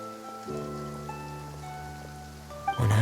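Steady soft rain falls in the Fontaine region of the Genshin Impact video game, a diffuse patter under sustained musical tones, swelling into a louder wash near the end.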